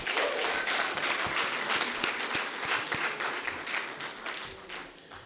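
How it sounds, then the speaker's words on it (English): A round of applause from the audience at a London summit session, steady dense clapping with a few sharp individual claps standing out, fading slightly toward the end. "I would appreciate if we all give the man a round of applause"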